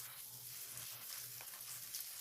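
Chopped onion and garlic sautéing in a hot pan, a steady bright sizzle filling the whole stretch with faint stirring scrapes, close and continuous, no voices.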